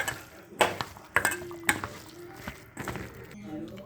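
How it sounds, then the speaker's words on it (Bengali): Chicken pieces being mixed by hand in a bowl, giving soft wet squelches and a few clinks and knocks of the bowl, close and fairly quiet, with no talking. "চিকেনটা এরকম করে মিশিয়ে দিচ্ছি"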